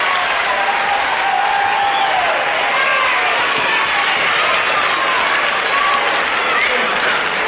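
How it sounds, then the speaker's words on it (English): A wrestling crowd applauds and cheers the winner in a continuous, dense roar of clapping and shouting, with excited screams rising over the steady applause throughout. "delighted crowd, especially the young ladies there, standing up and screaming their delight as Steve Veidor gets the decision"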